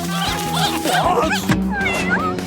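Cartoon kittens let out a string of bright, loud meows and squeaky mews in close succession over a steady music bed, with a voice briefly mixed in.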